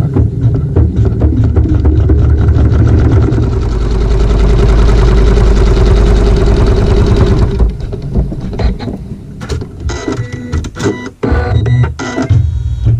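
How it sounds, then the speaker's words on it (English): A sewing machine stitching a tack down on fabric with regular thread, its motor running in a fast steady whir for several seconds, then stopping and starting in shorter bursts with small clicks nearby. "we will sew a tack down using the regular thread"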